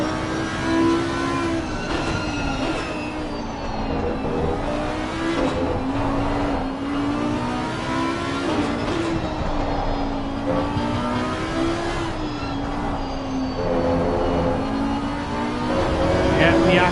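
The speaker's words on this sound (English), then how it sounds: "Just listen to the car." An Audi GT3 race car engine revs and shifts through gears at the Hungaroring in Assetto Corsa Competizione, pitch climbing and dropping repeatedly, loud and close, with a commentator talking over it.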